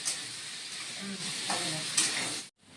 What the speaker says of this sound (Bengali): এখন আলু আর মিষ্টি কুমড়োগুলি আমি একটু ভেজে নেব